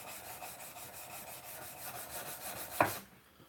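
Hand sanding with silicon carbide sandpaper, a steady close rasping rub of repeated strokes that ends in a brief louder scrape before stopping.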